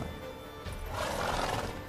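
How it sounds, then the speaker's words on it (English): Horse neighing in The Witcher 3 video game: a single rising whinny swelling over about a second against a constant noisy game background, moderately loud and close. "Get on the horse."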